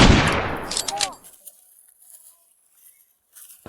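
A rapid burst of sharp cracking shots at the start, like automatic gunfire, quickly fading into near silence with faint sounds after.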